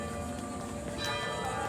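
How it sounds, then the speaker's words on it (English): Church bell ringing at two o'clock in Florida, a faint, distant tolling carried under steady background noise outdoors. "Bell?"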